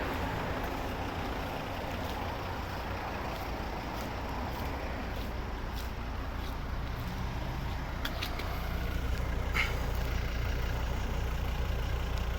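A 2014 Volvo V70 with a 2.0 D3 diesel engine and automatic gearbox, heard at the exhaust as a steady, low, rumbling idle that continues evenly throughout without voices.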